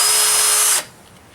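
A DeWalt DCD771 drill driver on speed setting 2 spins at a steady, high-pitched whine, close and loud, then abruptly winds down and stops.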